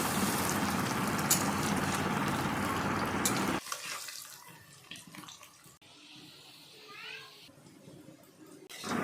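Fish egg fritters (pakoda) sizzle and crackle loudly in hot oil, a steady hiss that cuts off abruptly partway through, leaving quieter clinks and faint kitchen sounds.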